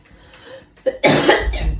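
A person coughs, opening with a small throat sound and then breaking into a loud, harsh burst of coughing up close, with no talk.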